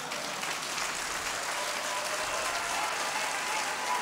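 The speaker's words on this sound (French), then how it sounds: "Applaudissez encore fort, non?" A church congregation applauding, a dense, continuous wash of clapping from many hands that stays steady throughout with no pauses.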